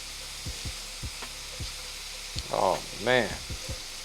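Garlic sizzling in a pan over medium-low heat, for bourbon chicken: a steady soft crackle underneath, with regular knocks and a voice speaking briefly.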